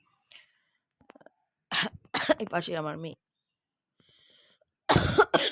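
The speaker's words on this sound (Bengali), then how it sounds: "বাবারে খুব কাশি হচ্ছে আমার" A woman coughs aboard a Vande Bharat train from Puri, a few harsh, close bursts separated by short stretches of her talking nearby.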